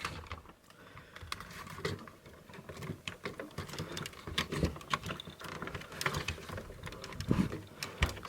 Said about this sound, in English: these are very, very strong and tight ratchets